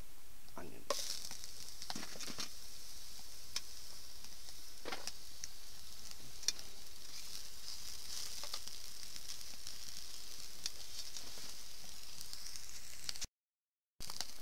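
Onions frying in oil on a rocket woodgas stove give a steady, fairly faint sizzle that runs without a break, with occasional soft clicks and stirring taps. The sound cuts out abruptly near the end.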